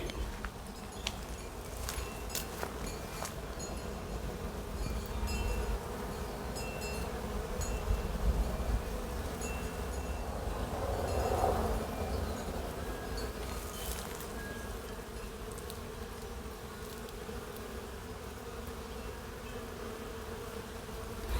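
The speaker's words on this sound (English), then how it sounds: "Let me get the sound there if I can, because bee sound is maybe the best sound you can expose yourself to." Bees buzzing around white flowers in an outdoor herb garden, a steady close drone that swells briefly midway, with no voices.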